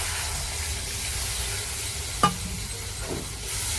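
Fried spice paste for dhoka curry sizzles in a pan as water goes in, with a steady close hiss, one sharp splashing burst, then a softer bubbling sizzle.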